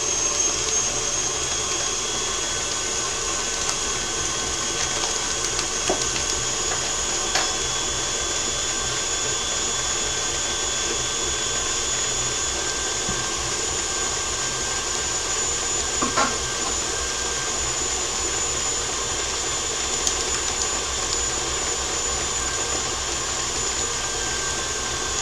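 An electric stand mixer runs steadily, whipping butter for shortbread in a bowl, a continuous loud motor whir with a high whine that holds for the whole stretch, with no talking.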